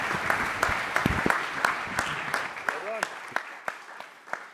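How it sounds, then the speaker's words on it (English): Audience applause for a supply chain technology panel at a summit, moderate clapping with sharp individual claps standing out, continuing steadily before thinning toward the end. "Give this group a big round of applause"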